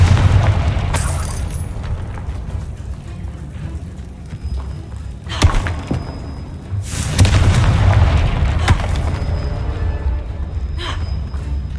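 Confringo explosion spell cast in a Harry Potter video game: several loud, booming blasts with bursting crackle, spaced a few seconds apart over a steady rumbling in-game ambience.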